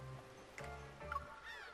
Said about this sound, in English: They stretch their necks and squawk loudly.